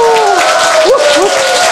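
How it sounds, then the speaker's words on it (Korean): An audience at a Korean lecture on genes claps in a brief burst of dense applause, with a voice sounding over the clapping. "그 유전자를 위하여 박수를 보냅시다!"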